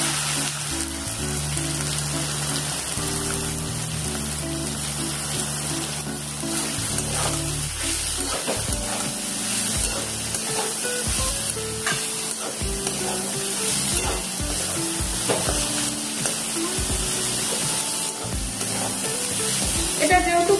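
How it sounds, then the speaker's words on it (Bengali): Chopped onions frying for a kachori filling, giving a loud steady sizzle in the pan with intermittent stirring scrapes throughout, close and continuous. "এবার পেঁয়াজ গুলো এর মধ্যে দিয়ে দিচ্ছি"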